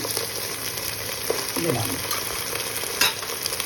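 Bhetki fish coated with ginger and dry chilli powder frying in a pan with potato and pointed gourd, a steady close sizzle with occasional stirring scrapes; someone says a brief word near the start.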